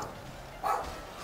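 A single brief dog bark rises midway through quiet battlefield ambience in Medieval 2 Total War, short and somewhat distant.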